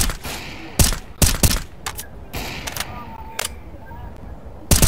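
Sharp, loud gunshots in a competitive CS:GO match, a handful of separate cracks and short bursts with quieter clicks and mechanical noises between them.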